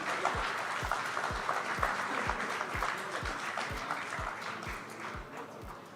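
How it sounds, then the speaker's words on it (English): Audience applause at the Hindustan Times Leadership Summit, steady clapping from a large hall with a regular low thumping beat pulsing underneath, continuous and moderately loud throughout. "A round of applause, ladies and gentlemen."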